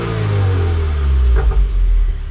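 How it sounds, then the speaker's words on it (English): Stock exhaust on a Subaru WRX revving, a steady loud low rumble with a brief rise in engine pitch partway through, no talking. "Let's hear this stock exhaust for the last time."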